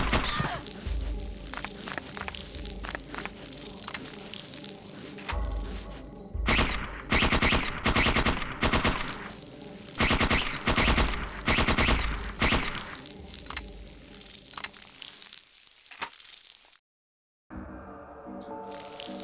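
Secondary weapon fire in the survival horror game Parasite Eve II comes as repeated loud bursts of rapid shots in a steady stop-start rhythm over game background noise, ending in a sudden moment of silence.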